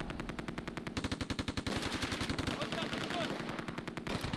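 Machine guns rattle in the World War II strategy game Close Combat II during a battle near a Jagdpanther tank destroyer, with dense, loud, rapid bursts repeating throughout and overlapping shots in the background.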